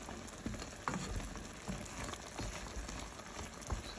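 Chicken pieces fry in a pan of hot oil with a dense, continuous sizzle and crackle, close and steady, broken by occasional soft knocks and stirring sounds.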